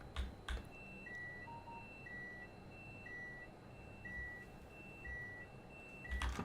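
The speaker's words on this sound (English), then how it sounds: "So you hear a lot of alarms go off." Train cab alarms in Train Sim World 5 repeat as steady, evenly spaced electronic beeps over a low hum, fairly quiet, with a couple of clicks at the start and end.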